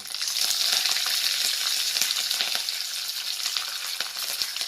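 Curry leaves sizzle and crackle in hot oil, a steady, fairly loud frying hiss with scattered sharp pops, near and alone with no voices.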